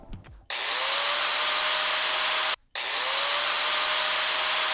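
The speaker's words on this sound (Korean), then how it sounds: "이게 일반 그라인더를 켰을 때 나는 소리죠" A conventional angle grinder, without slow start, whirs up instantly to a loud, steady high-pitched whine, cuts out briefly, then snaps back to full speed, close and continuous.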